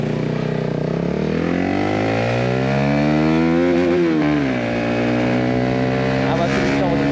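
A motorcycle engine runs steadily nearby, its pitch rising and falling with throttle changes and peaking around the middle.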